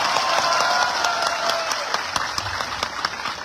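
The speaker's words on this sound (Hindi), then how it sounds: "ताली मारो इसके लिए भी।" A crowd at a political gathering claps and applauds, a dense continuous patter that starts strong and slowly thins, with individual claps standing out toward the end.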